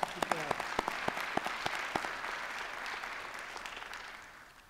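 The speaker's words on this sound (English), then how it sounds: "Another round of applause." A commencement crowd applauds nursing graduates, opening with a few loud distinct claps that swell into a dense wash of applause, then slowly fade toward the end.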